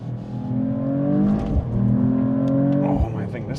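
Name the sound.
Mercedes-Benz E53 AMG accelerating and shifting gears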